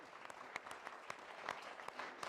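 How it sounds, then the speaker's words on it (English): An audience at a health innovation pitch event claps for Ashley, a fairly faint, distant patter of steady applause filling the whole moment with no voices over it. "So round of applause for Ashley."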